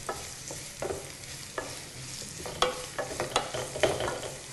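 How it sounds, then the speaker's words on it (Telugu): Onion pieces fried in hot oil for a potato and cabbage curry, a steady close sizzle broken by several sharp scraping stirs at irregular intervals, with no voices. "ఓకే ఆయిల్ వేడొచ్చిందండి ఇందులో ఉల్లిపాయ ముక్కలు వేస్తున్నాను"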